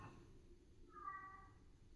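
A single soft, drawn-out cat meow, faint and a little distant in a quiet room.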